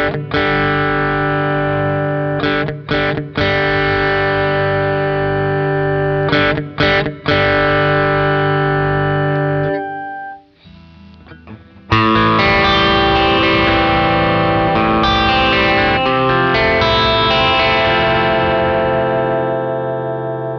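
Guitar played through a Neunaber Neuron effects unit preset, with sustained distorted chords that ring out, stop abruptly several times, fall briefly silent, then return with a dense chorused, layered tone, loud and close.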